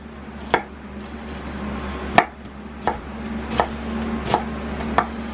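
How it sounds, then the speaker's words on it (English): A dull kitchen knife chops through an onion on a board, giving about eight separate dull knocks at irregular intervals over a low steady background hum, close by with no talk. "you can normally tell when your knife's dull. If you listen to it, see that?"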